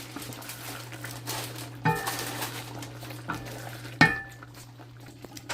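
Thick latik, coconut cream reduced to curds, bubbles and is stirred in a pan, giving a soft low simmer with occasional scraping clinks of a utensil against the pan.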